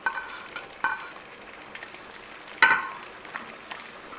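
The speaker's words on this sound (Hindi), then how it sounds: "अब इसमें मैश किया हुआ गुड़ 1 कप ये शामिल कर देंगे।" Mashed jaggery is stirred into simmering carrot kheer in a pot, giving a few soft scraping strokes and light clinks over a quiet bubbling background.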